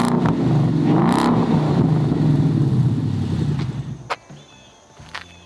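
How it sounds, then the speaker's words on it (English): A 2011 Ford Mustang GT's exhaust revs loudly up to about 3,500 RPM a couple of times, the engine note swelling and dropping close by before settling toward idle. "So I'm gonna give you guys a couple quick revs."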